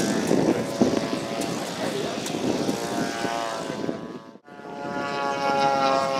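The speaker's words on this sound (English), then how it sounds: "Aircraft just taxiing down the end of the strip to take off." A model aircraft taxiing down a grass strip before takeoff at a large model fly-in, its propeller engine droning steadily nearby with a brief dip in sound, while people talk in the background.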